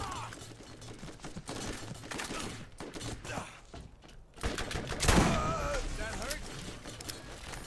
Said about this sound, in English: They're shooting me around.